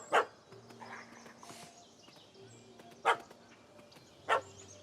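A puppy in The Witcher 3 gives three sharp, separate barks spaced across a few seconds, fairly close over a quiet background.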